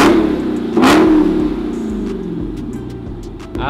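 A Dodge Charger Hellcat Redeye revs hard, with a sharp rising engine roar near the start that then settles into a loud, steady rumble, close to the microphone.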